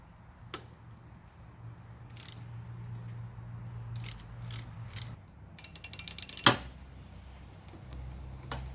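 A ratchet wrench tightens a bolt to hold tension on an engine belt: scattered single clicks, then a quick close burst of rapid ratcheting clicks near the end over a low steady hum.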